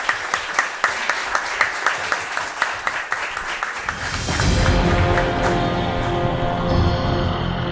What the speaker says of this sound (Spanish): Un aplauso pido para él.